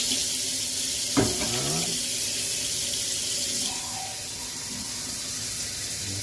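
Water pours in a steady, rushing stream into a pot of beef broth, close by, with the flow softening slightly partway through.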